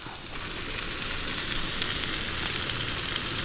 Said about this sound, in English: that butter is sizzling in there